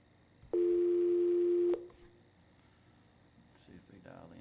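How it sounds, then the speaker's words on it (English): A single steady electronic call-waiting tone on a conference telephone line during a council meeting, sounding clearly for about a second before fading into quiet room noise. "Somebody tried to get through and there was the call waiting."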